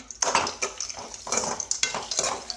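Grated coconut being stirred and sautéed in a pan, with a spoon scraping and clinking against the metal in repeated strokes and a faint sizzle underneath, close and clear with no talking.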